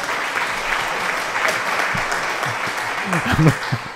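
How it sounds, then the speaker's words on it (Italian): A crowd applauding steadily at moderate distance, with some voices and laughter rising near the end. "applausi non so da parte di chi, chi è stato"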